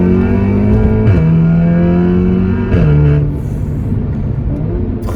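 Audi S3 stage 2 fitted with a Milltek exhaust accelerating hard, a loud continuous engine roar climbing in pitch through the gears, with a brief dip at each upshift.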